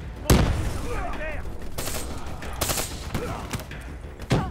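Gunfire in Call of Duty Black Ops 3 comes as sharp shots and short bursts over a few seconds. A voice talks between the shots.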